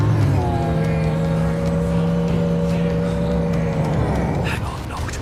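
Boat engine in Final Fantasy XV, a loud steady motor hum with a clear tonal whine that holds and then fades away, along with some splashing at the end and no speech over it.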